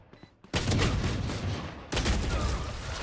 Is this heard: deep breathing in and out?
no